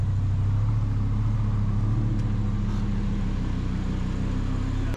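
An Audi R8 V10 with a valved exhaust drives past at steady speed, giving a continuous low, throbbing engine rumble with a deep droning tone, close and fairly loud throughout.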